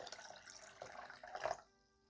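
Aquarium tank water poured from a little jug, a short splashing trickle that swells briefly and then stops, leaving near silence.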